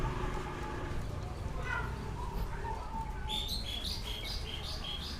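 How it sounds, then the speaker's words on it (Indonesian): Many birds call outdoors, with scattered faint chirps at first and then a dense burst of bright, rapid repeated calls over a soft ambient hum. "Wah, ini burung banyak banget nih."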